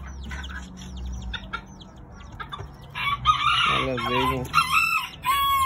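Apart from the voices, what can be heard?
roosters crowing and clucking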